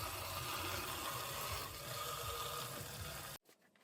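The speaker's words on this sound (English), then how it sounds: "top the coolant up" Coolant being poured into a BMW Z4, a steady trickling, gurgling stream of liquid that runs for a few seconds and then stops abruptly, leaving a faint handling noise.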